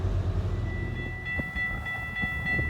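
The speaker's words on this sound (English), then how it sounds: "we are at the Timothy Street crossing in Newmarket. And we have a GO train coming." A GO train approaches the Timothy Street level crossing in Newmarket, a steady rail rumble with a sustained high warning tone over it, moderately close.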